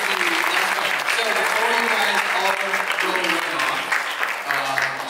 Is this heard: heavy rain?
no